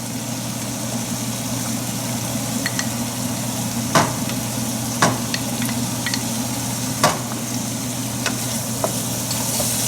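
Chilies and tomato paste for an Indian chicken curry sizzle steadily in a hot pan, a continuous close frying hiss broken by a few sharp clicks and pops.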